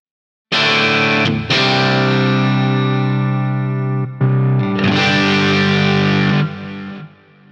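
Overdriven electric guitar through a Fractal FM3 modeler: loud, thick sustained chords ringing out with a crunchy, saturated edge, changing voicing a few times before fading, with no talking.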